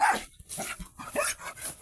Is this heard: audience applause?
no